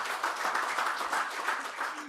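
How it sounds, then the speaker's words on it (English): Audience applause at a conference event, a dense steady patter of many hands clapping that fills the whole short stretch at moderate level without letting up. "Everybody, give a very round of applause too."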